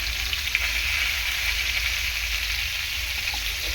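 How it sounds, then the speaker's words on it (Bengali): Papaya pieces stir-fry with salt and turmeric in a hot pan, giving a steady, even sizzle that runs unbroken from start to finish with no talking. "লবণ আর হলুদ দিয়ে ভালো করে সবজিটাকে প্রথমে কষিয়ে নেবো"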